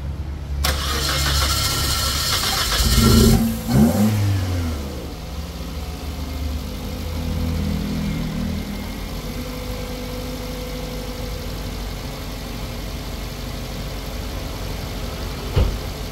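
A car engine fires up after a valve cover gasket replacement, revs briefly, then settles into a steady, fairly quiet idle that continues for the rest of the clip, with a faint clunk near the end.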